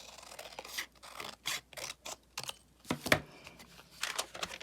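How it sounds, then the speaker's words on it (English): Scissors cutting through paper while making an ephemera journal page, a series of close, crisp snips and scratchy slicing strokes in irregular bursts, with no talking. "I'm going to cut this part off."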